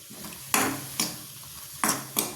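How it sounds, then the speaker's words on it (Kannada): Tomato paste fries in a pan with a low sizzle, broken by four sharp scraping stirs of a spatula at uneven intervals, close and fairly loud. "ಈ ಥರ ಅದು ಪೇಸ್ಟ್ ಥರ ಫ್ರೈ ಆಗಬೇಕು ನೋಡಿ"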